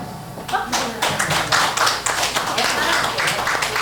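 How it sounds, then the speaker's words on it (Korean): Audience applause at the 6th Incheon disabled persons' choir festival in 2021, brisk close clapping from a room of people, sharp hand claps densely overlapping for several seconds. "자, 박수 한번 주세요."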